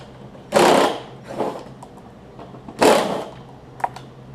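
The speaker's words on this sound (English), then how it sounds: "take the same screws out of here that I did on the other side" Screws come out of a side panel on a Toro Personal Pace self-propelled walk-behind mower during a drive belt replacement: two loud, close whirring bursts from a driver, separated by quieter mechanical rattles and clicks, with no talking.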